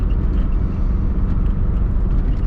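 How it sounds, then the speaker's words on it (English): Steady engine roar from inside a twin-turbo Subaru on a mountain drive, a continuous low rumble with faint whooshing from the turbos, no voices. "Here's some awesome turbo noises."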